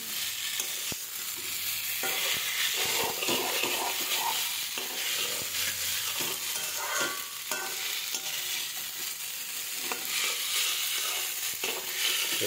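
Chowmein frying and being tossed in a pan, a steady close sizzle with frequent scraping and clattering stirs throughout, no voices.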